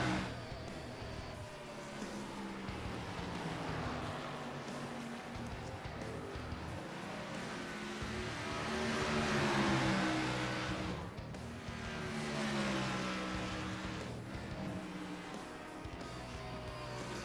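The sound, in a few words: race cars on track in sim racing video game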